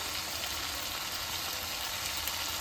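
Cauliflower frying in a pan over low gas, a steady close hiss and sizzle with no breaks or voices.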